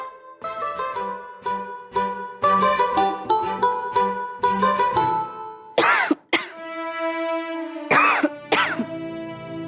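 A woman's series of harsh throat clearings and short coughs from a cold, close and repeated in irregular bursts, with no speech.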